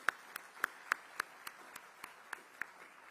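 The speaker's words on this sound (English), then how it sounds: "Let's give Jackson a huge round of applause." A few people clap at the ICT Summit 2023, giving sparse, evenly spaced single claps about three per second, crisp and close, rather than a full round of applause.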